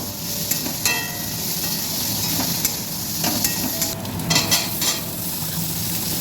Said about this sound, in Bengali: এবার আমি এখানে আদাটা দিয়ে দিচ্ছি। আদাটা দিয়ে নাড়াচাড়া করে মিশিয়ে নেব।